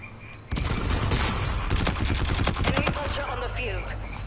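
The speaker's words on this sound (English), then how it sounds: "Shotgun." Shotgun blasts in a first-person video game, a dense burst of booming shots with a voice talking over the later part.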